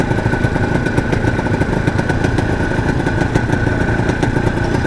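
Yamaha TZM two-stroke motorcycle engine running with its power valve held open, a steady buzzing idle with a constant tone and light rattly clatter, close and loud, no voices.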